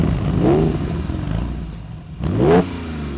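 An old Porsche 911 engine revs up twice with rising growls, idling with a throaty exhaust rumble in between, loud and close.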